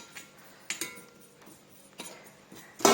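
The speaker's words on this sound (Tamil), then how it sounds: "எள்ளும் பொரிஞ்சு வந்துடுது" Sesame seeds being fully roasted in a pan for a Tamil pudina thokku, giving a few scattered, faint crackling pops and ticks at irregular intervals, with a louder crackle at the very end.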